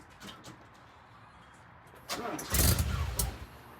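A car engine near the shop starts up and roars with exhaust, a sudden loud surge that then settles, after a quiet opening.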